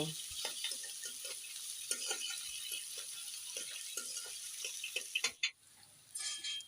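Garlic and green chilies frying in a pan, with a faint steady sizzle under a run of quick scraping and rattling stirs, close and quiet, briefly dropping out near the end.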